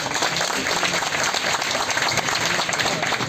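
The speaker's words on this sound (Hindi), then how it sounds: "जोरदार ताली के साथ में, जोरदार ताली भाई मुझे नहीं चाहिए" A crowd at an outdoor Congress party political rally breaks into loud, dense applause, a continuous wash of clapping filling the few seconds without talk.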